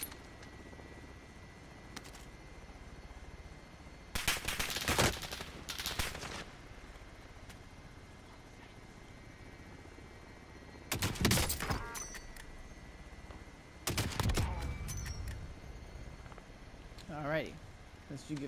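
Gunfire in the Call of Duty Modern Warfare video game comes in several loud bursts of rapid automatic shots, separated by quieter stretches where players talk.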